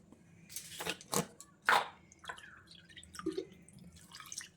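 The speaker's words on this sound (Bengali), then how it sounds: "সেই জন্য আবার একটু জল দেবো" Water splashed into thick cake batter in a bowl, heard as a few close, wet drips and plops followed by softer scattered squishy sounds.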